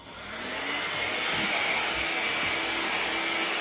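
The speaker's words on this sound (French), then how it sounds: "Voilà, on va le sécher aussi." A hair dryer drying fresh varnish on an ABS radio-controlled car body gives off a steady, close, loud blowing whoosh that ramps up over the first half second and then holds constant with no talking.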